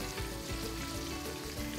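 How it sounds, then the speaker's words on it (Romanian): About a dozen marinated meatballs fry in hot oil in a pan, a dense, continuous close sizzle and crackle with no voices. "Eu întotdeauna când pun ceva la prăjit, pun așa, în direcția asta."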